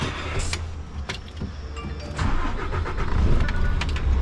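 A car starts and drives off, with a few clicks and thumps first, then the engine catching and a mid-pitched hum rising as it pulls away, close by with no talking.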